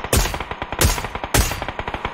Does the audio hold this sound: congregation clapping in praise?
no